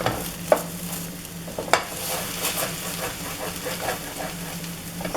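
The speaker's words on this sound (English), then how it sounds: "just scramble this up like you do, like if it was eggs" Food being scrambled in a non-stick frying pan, with a constant close sizzle broken by sharp scrapes and knocks of the utensil against the pan, alone without voices.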